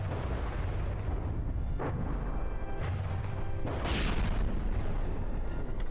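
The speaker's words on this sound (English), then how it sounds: "More bombs popping in here." Bombs detonate in a From the Depths naval battle, a steady dense rumble with several heavier booming impacts swelling out of the continuous low roar.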